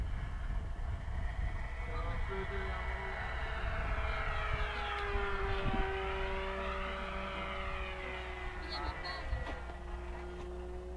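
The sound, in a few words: delta-wing ultralight aircraft engine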